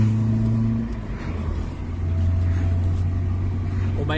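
An old car from about 1987, fresh from a gearbox oil change, drives along with a steady low engine drone and a rising rev near the end, continuous and fairly loud.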